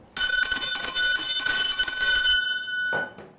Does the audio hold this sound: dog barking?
no